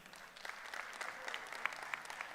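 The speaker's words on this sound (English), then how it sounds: "Give yourselves a round of applause for being here." An audience at a company welcome event applauds together. The clapping is steady but moderately quiet and distant, lasting a couple of seconds with no talking over it.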